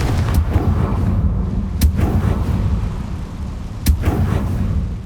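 Spell blasts from the Confringo curse in Hogwarts Legacy, three sharp explosive cracks spaced a couple of seconds apart over a dense rumbling game soundscape.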